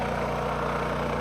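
A generator engine running steadily at close range, a continuous loud low rumble with a regular throbbing pulse and no pauses.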